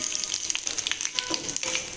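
Two dried red chilies crackle in hot tempering oil for okra curry, making a short, busy sizzle with bright spitting pops close by.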